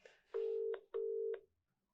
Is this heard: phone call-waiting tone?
yes